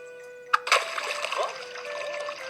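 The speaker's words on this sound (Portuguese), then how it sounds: "Deus disse a Moisés para golpear a colina perto de Horebe com a vara, e a água sairia dela para o povo beber." Water bursting from a rock struck with a staff in a story of Moses near Horeb, a sharp knock followed by a close splashing gush that trails into a trickle under a steady musical tone.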